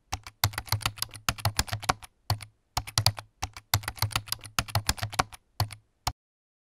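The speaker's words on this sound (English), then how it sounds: "Open a new file in Idle and write the code like this" Python code being typed on a computer keyboard: close, rapid clattering keystrokes in quick bursts separated by short pauses, with no talking.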